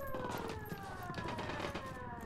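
A police car siren wails in the Ghost Recon Wildlands video game, a loud, continuous wavering tone over busy game noise, with no talk.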